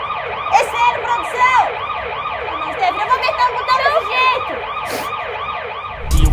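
A siren wails continuously in rising and falling sweeps, loud and steady throughout, with faint traffic rumble underneath.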